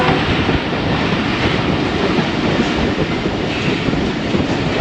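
The 101UP Subk Raftar passenger train runs near Jhelum, with a loud, steady roar of wheels and carriages, rhythmic rail clatter and broadband rumble, and no voices.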